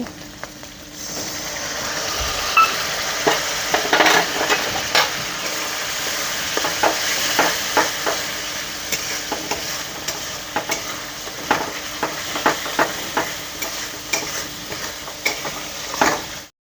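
Spice masala with salt and turmeric sautéed and stirred in a pan for a prawn and potato curry, a steady close sizzle broken by repeated scraping strokes of a spatula, with no talking.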